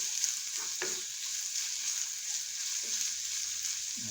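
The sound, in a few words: saltfish and vegetables tossed and frying in a pan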